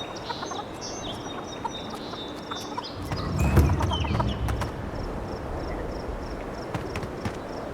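Chickens cluck intermittently in the video game Avowed amid a busy background of clatter and rustling, with a brief louder burst of noise partway through.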